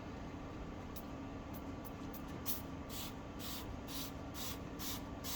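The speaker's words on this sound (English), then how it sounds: "Spray it on there." Several quick hissing bursts from a trigger sprayer of Chem-X Heavy Duty cleaner, irregular at first then steadier, over a low constant background hum.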